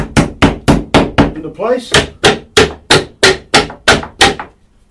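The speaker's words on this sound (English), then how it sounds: "At this stage I pick up my trusty hammer and I bang them all down" A hammer bangs kitset wooden beehive frames into place, about a dozen sharp, evenly spaced blows close by, with a brief spoken phrase between strikes.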